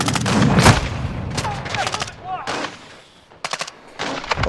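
Grenade explosion and bursts of gunfire in an online shooter video game, loud and close, with rapid automatic fire in several bursts and shouting players over the combat.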